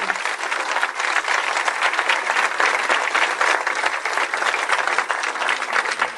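Sustained audience applause at a church testimony talk, dense steady clapping from many hands with no voices over it.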